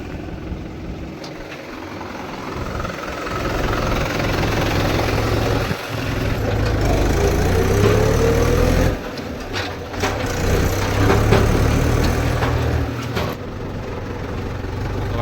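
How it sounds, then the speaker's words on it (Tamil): A Mahindra 475 tractor under heavy load in field work, with a worn clutch plate: a loud, close, steady engine drone that dips briefly now and then, with rough gear noise through the running. "வண்டியில் கிளச் பிளேட்டு போயிருக்கு அதான் கீர் போகும்போது சவுண்டு வருது"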